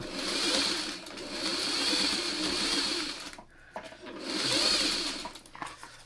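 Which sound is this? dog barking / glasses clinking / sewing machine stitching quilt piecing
sewing machine stitching quilt piecing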